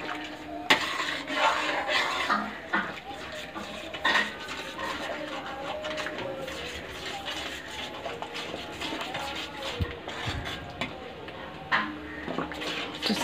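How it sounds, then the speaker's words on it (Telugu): Cornflour mixture is stirred into a pan of cake batter, giving steady scraping and clinking of a utensil against the pan with light, wet swishing throughout. "కార్న్ఫ్లవరు ముందుగా మిక్స్ చేసుకున్నది వేసుకుంటూ కలుపుతూనే ఉండాలి"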